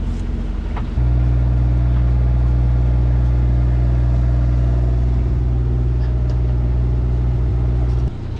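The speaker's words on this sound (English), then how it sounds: "We're motoring right this second though." A swing-keel sailboat motors along under engine power, its inboard engine holding a steady, loud low drone and hum close by that runs almost unchanged from start to finish, then cuts back slightly near the end.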